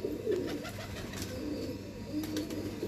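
Pigeons coo in a low, rolling murmur that rises and falls in repeated phrases, fairly close and continuous, with faint background rustle and no voices.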